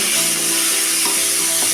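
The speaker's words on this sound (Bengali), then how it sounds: "এখন আমি চিংড়ি মাছগুলোকে ভালো করে ভেজে নেব" Shrimp frying hard in hot oil with salt and turmeric in a wok, a loud, dense, continuous sizzle close up with faint crackles.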